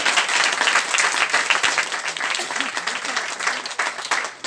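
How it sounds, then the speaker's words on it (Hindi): Audience applause at a live talk, dense and sustained clapping that fills the room steadily for several seconds, with some crowd noise mixed in. "एक बार तालियां बजा दीजिए।"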